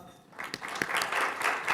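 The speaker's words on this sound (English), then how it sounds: "I want everyone to clap hands for Samara" An audience applauds for Samara at an event, a short burst of steady crowd clapping that builds after a brief quiet start.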